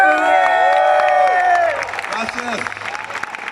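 A crowd bursts into loud applause and cheering, then it thins into scattered clapping while a voice speaks briefly over it.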